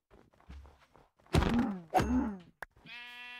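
Two short, loud Minecraft sheep bleats stand out after some quiet thumping footsteps, followed by a brief tonal chime near the end.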